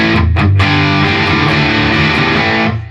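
Distorted electric guitar through a Boss DS-1W Waza Craft distortion pedal into an amp with a greenback speaker, a few quick picked notes then a thick sustained chord ringing loud and close, cut off near the end.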